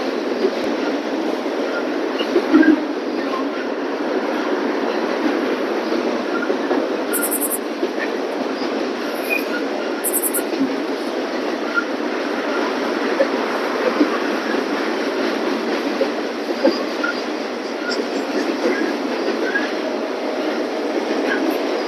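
A Norfolk Southern train rolls past at night, a steady, loud rumble of cars and wheels continuing unbroken throughout, with a few faint high squeals and brief clanks over the droning rail noise.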